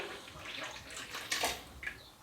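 Water trickles and splashes briefly into the airlock of a mead fermenter, a soft, close pouring sound with a couple of small bright splashes.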